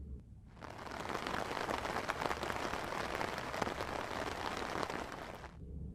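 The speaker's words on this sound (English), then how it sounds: "there are some nice subscription-only sounds like rain falling on a tent" Steady rain patters on a tent in a sleep-and-focus ambient soundscape: a dense, even wash of drops holds at a constant level throughout, fading in at the start and out at the end.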